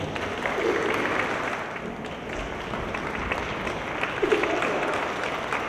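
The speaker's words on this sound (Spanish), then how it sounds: "Despidámoslos con un fuerte aplauso." Audience applause at the close of a panel at a 2019 International Data Protection Day event, a fairly quiet, continuous patter of clapping with a few louder claps near the end.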